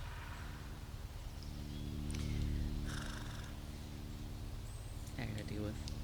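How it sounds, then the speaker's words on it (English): A pet cat purrs close by in a soft, steady rumble that continues throughout, with a few brief faint background sounds over it. "Oh, I have a cat."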